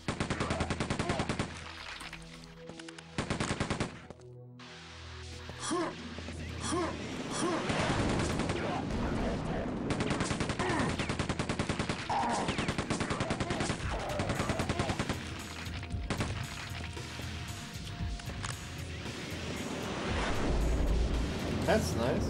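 Enemy gunfire in the first-person shooter Quake 2: dense, sustained rapid shots and explosive bursts over loud game action for the whole stretch, with a player talking over it.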